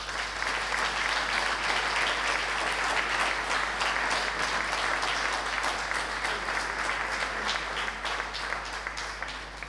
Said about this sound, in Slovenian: namenimo en skupen aplavz